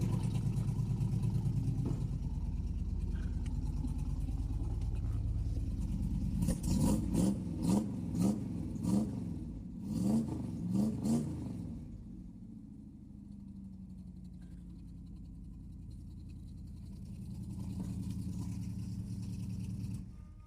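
A 1971 Corvette Stingray V8 idles steadily indoors, then gives a burst of sharp revs with rising and falling pulses before settling back to a loud, rumbling idle.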